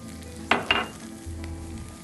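Butter and grated pecorino Romano are stirred into a pan of risotto, with a soft sizzle, two short scraping strokes near the start, then a low steady bubbling, close and alone with no talk.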